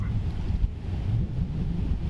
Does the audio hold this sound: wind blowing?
yes